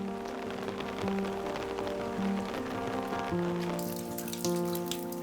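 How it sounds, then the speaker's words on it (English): Rain falls on a tranquil village on a rainy day, a steady patter of drops running under a gentle musical backing throughout. "What will Hugh hear in this tranquil village on a rainy day?"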